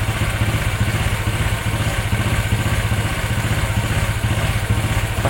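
A tuned Honda Vario scooter engine, with ignition timing set through a Juken 5+ ECU, idles with a loud, choppy rumble. Its rapid, uneven pulsing is heard close up and continuous, with no voices.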